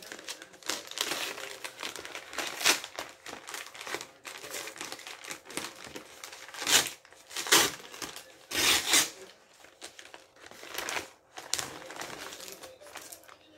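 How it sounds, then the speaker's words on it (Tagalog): A delivered order package is opened, with plastic wrapping crinkling and rustling in irregular bursts, some louder crackles, close up and without talk. "Buksan na natin ang ating order."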